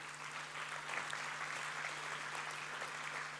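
An audience at a business awards event applauds to welcome a guest on stage, a steady, fairly distant wash of clapping over a low hum.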